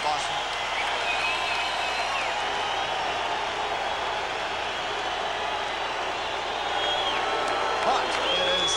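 A 1992 NHL playoff crowd at a Canadiens–Bruins hockey game in Boston roars and applauds steadily throughout, heard as a continuous wash of cheering under a commentator's voice.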